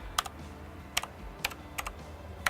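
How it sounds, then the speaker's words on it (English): Keys clack on a computer keyboard in a few sparse, separate bursts of clicks at close range, with quiet pauses between them. "grab a keyboard and type in how much this thing is"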